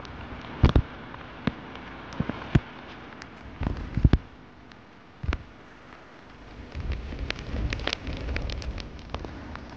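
Steady rain patter on a lake while kayaking, with scattered louder drops and irregular taps, plus faint low rumbles in the background.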